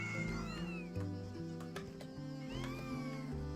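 A cat meows in the video game Adventures of Stabby McStabface, with several rising and falling meows standing out over steady game music.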